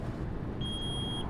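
A low brake pressure warning alarm in the Euro Truck Simulator 2 truck cab sounds as a single steady high electronic beep lasting about half a second over a quiet engine hum.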